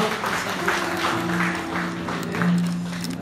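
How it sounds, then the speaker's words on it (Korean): A church congregation claps during a Sunday service, soft and steady, with a sustained tonal hum running beneath the patter. "영광의 박수를 드리겠습니다."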